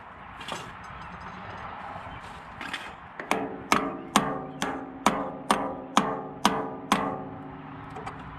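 A pin is tapped out of a Case VAC tractor brake lever with about ten sharp, evenly spaced metallic hammer taps after a few softer knocks, close and loud with no talking.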